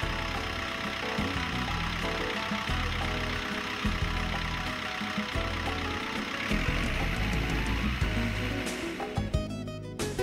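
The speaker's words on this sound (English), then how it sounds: "Clean the radiator and the inside of the engine while operating the engine at low idle." A Kobelco excavator engine idles low during radiator and engine cleaning, a steady mid-pitched hum that holds close and even throughout, with no voices over it.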